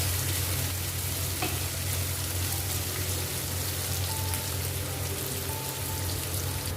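Onions fry in a pan until brown for a rohu fish curry, giving a dense, continuous sizzle like light rain, close and steady, with a low hum beneath and no talking.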